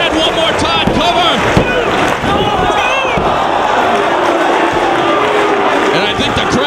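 Wrestling crowd at an event in Elizabeth, New Jersey, a dense, loud wall of cheering and roaring that runs steadily throughout, with a commentator talking over it.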